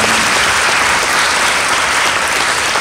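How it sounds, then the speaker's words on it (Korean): Steady, dense applause from a church audience fills the space, loud and continuous throughout with no voices over it. "우리 박수 한번 경례의 박수 부탁드립니다"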